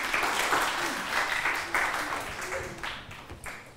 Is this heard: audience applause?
yes